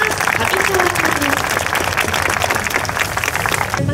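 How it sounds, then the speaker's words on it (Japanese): Loud, dense applause welcoming a guest at an anglerfish cutting show in Oarai, Japan, steady clapping throughout with a voice briefly over it. "大きな拍手でお迎えください。"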